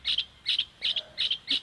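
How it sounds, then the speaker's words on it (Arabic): A small sparrow chirps in quick bright bursts, five short paired calls evenly spaced and fairly close, with nothing else around them. "صوته جميل يسمى زقزقة أو تغريد"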